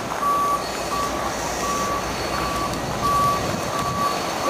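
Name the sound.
reversing beeps of cement trucks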